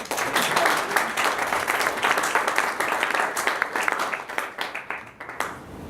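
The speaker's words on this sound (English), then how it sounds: "I like clapping" An audience claps after a student presentation at a university open-source project meeting, dense steady applause that thins out and fades toward the end.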